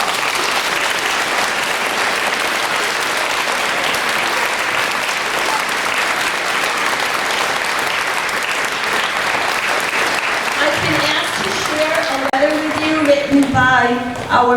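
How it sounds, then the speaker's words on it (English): A school audience gives school staff a sustained round of applause at a Blue Ribbon recognition ceremony, steady and full for most of the stretch before thinning out as a voice begins speaking near the end. "could we give them another round of applause?"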